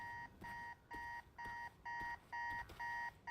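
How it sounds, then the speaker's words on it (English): Video game alarm clock ringing in a character's room in a Spider-Man game: a shrill electronic beep repeating in regular bursts, about seven even pulses with short gaps, clear and alone. "Let's just smash his alarm into pieces."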